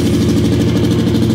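Motorcycle engine running steadily after carburetor and ignition repair, a loud close idle with a fast regular pulsing chug, no talking.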